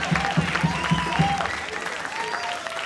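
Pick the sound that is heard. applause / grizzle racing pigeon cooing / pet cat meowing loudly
applause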